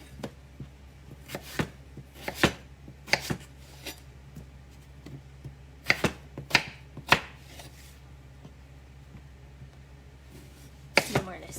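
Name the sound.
knife cutting potatoes into wedges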